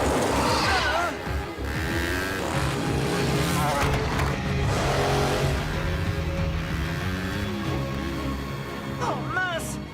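A cartoon vehicle's engine roars at full throttle during an animated chase, a loud continuous droning rev that sits under excited character voices and dramatic music throughout.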